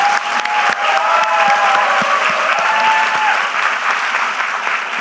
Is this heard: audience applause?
yes